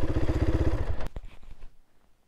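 A Herald Brute 500 motorcycle engine idles with a steady pulsing thump, then cuts off abruptly with a clunk, and the exhaust sound fades into near silence.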